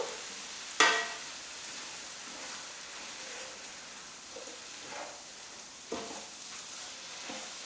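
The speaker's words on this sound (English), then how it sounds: "I'm going to add this can of tomatoes. Give it a good stir." Ground meat with canned tomatoes sizzles in a pan, a continuous close frying hiss with a sharp spoon clank at the start and a few softer stirring scrapes afterward.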